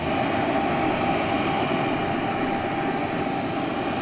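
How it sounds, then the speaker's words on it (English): Old Boeing 707 jet engines give a loud, steady roar with no pauses, a continuous engine drone filling the whole stretch. "Love the old engine sound of a 707"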